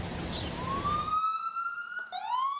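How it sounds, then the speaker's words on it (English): Emergency vehicle siren wailing through New York City streets, a rising tone that sweeps upward and holds steady with a second siren overlapping near the end, heard over street noise at moderate distance. "Out here in the streets, it's nothing but ambulance sirens."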